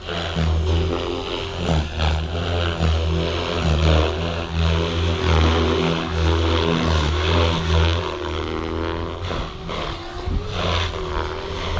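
A small RC helicopter flown with a RadioMaster Nexus flybarless controller holds a steady hover, its rotor and motor giving a loud, continuous buzzing drone that stays close and even throughout, with no talk.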